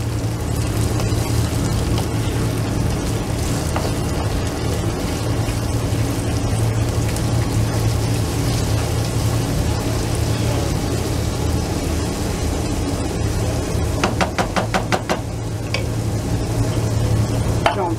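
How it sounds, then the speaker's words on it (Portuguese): Onion and garlic frying in a pan over lowered heat for bacalhau à Brás, a steady dense sizzle that runs throughout with a few sharper crackles near the end. "Vamos deixar aqui a cebola a lourar."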